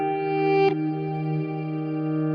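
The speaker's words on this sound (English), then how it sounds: "if I want a really nice, rich, lush reverb" A sustained synth-like chord with lush Alteza reverb runs through the NeSi XTrem stereo tremolo. A brief transient near the start leaves a long, smooth tail ringing on alone.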